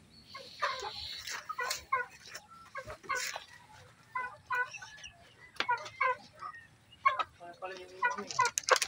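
Four-month-old Black Parawakan chickens cluck and chatter in repeated short bursts, close by, with faint talk in the background.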